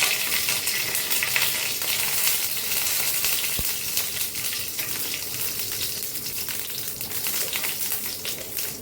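Two bay leaves frying in a mix of hot oil and ghee, a steady close bright sizzle that keeps going without break, with one sharp brief tick partway through.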